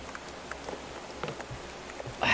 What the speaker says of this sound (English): These roofs get so slippery in the rain.